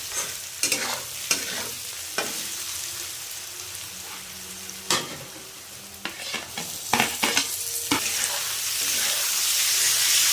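Sliced onions and tomatoes fry in a pan for a capsicum and tomato dish, a loud, continuous sizzle broken by repeated scraping and clacking strokes of a stirring spatula, with no talking.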